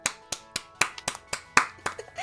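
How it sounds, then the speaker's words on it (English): About ten sharp, separate hand claps in an uneven rhythm, close and loud, for a live stream chat during a Puyo Puyo stream. "Clap for the chat"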